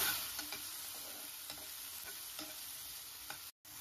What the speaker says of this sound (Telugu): ఒక 2 మీడియం సైజ్ టమాటోస్ తీసుకొని ఫ్రై చేసుకోండి